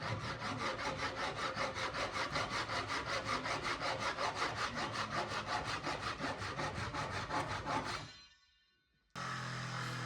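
Rapid, rhythmic strokes of a Japanese hand saw cutting through old table wood, close and steady for several seconds before stopping, then a brief burst of noise.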